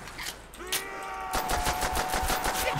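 Rapid bursts of automatic gunfire crackle in a custom zombies video game, a short pop followed by a sustained volley of repeated shots, loud and close with no talking.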